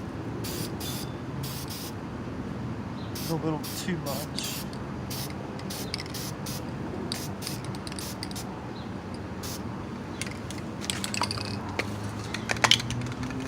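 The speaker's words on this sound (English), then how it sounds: "I'm just gonna dust it just a little bit with some black spray paint." Short bursts of black aerosol spray paint hissing in repeated spurts, with a person talking briefly between sprays.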